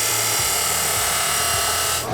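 A drill press bores into metal tubing with a steady high whine and rough grinding, close and continuous, ending abruptly.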